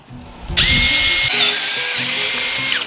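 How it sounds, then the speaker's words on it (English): A power drill bores out a hole in a gasket. It spins up abruptly into a loud, steady, high whine close by, then holds for a few seconds, dipping slightly in pitch under load. "Now I can start drilling it out."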